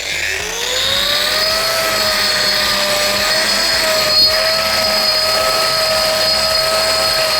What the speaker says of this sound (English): The first surface has been ground.